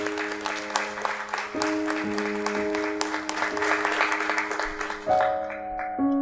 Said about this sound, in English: let us have a huge round of applause for our lovely teachers